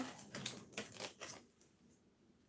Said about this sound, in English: And I am just going to cut this wire.